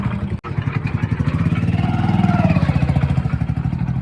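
An old-model Hero Splendor motorcycle engine idles and putters close by, a rapid steady pulsing with a slight rise in revs midway, and no talking.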